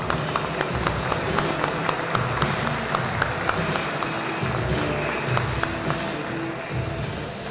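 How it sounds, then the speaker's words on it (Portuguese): A conference audience at a cybersecurity event applauds to welcome speaker Marta Gabriel on stage, sustained crowd clapping that holds steady and fairly loud for the whole stretch. "Palmas!"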